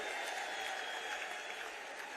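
Steady crowd applause at a political gathering honoring Mohanlal Badoli, dense and continuous clapping from many hands throughout, fairly close and even in level with no voices standing out.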